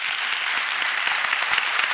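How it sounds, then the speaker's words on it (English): Graduation audience in a theatre applauding, a thick, continuous roar of clapping at steady loudness throughout. "a special round of applause for showing the students how to learn"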